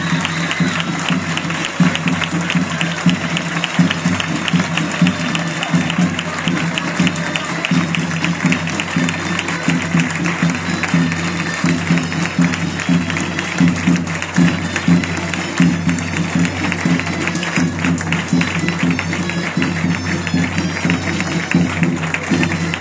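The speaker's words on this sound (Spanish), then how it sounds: "Recibimos con un caluroso aplauso a la señorita Sara Egea Gutiérrez" A neighbourhood crowd gives warm applause at the street presentation of the child queen and ladies of carrer Monsenyor Fernando Ferrís. The clapping is loud and continuous, mixed with crowd noise and steady background tones.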